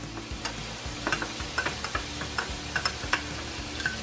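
A utensil stirs oil mixed with taco seasoning in a container, making quick, rhythmic clicking and scraping taps close by, fairly soft and without talk.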